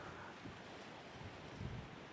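Steady wind roars and buffets the microphone beside the sea at Pwllheli, North Wales, in extreme weather, with a low rumble of surf underneath and no voices.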